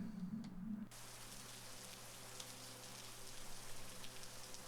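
Video game rain pours down in an even, hissing wash that holds constant throughout, with no voices.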